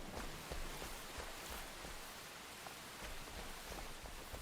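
Steady rain falls in the video game Enshrouded, a dense hiss of drops pattering on surfaces with no break, quiet and even, and nobody speaking over it.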